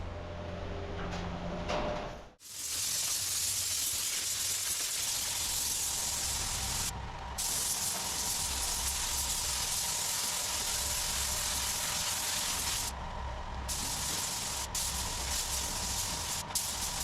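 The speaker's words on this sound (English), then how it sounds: "I can apply a thick coat of lacquer over the top." A spray gun lays clear lacquer onto a car body in a dusty workshop, producing a long close steady hiss broken by a few brief pauses and one short stop near the start.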